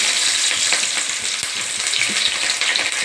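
Curry leaves and onion fry in hot oil in a pan, giving a loud, continuous sizzle with occasional stirring scrapes. No voice is heard over it.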